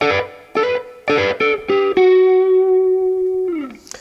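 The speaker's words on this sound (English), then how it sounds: "Now let's take a look at that nice lead part that fits over the top of the chorus" Electric guitar plays a lead line over the chorus of a song: five short plucked notes in quick succession, then a long sustained note that bends downward and fades, played alone.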